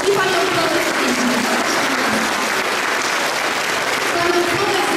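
Steady, dense applause from a crowd at a school awards ceremony, continuous and even in loudness throughout, with faint tonal background sound underneath.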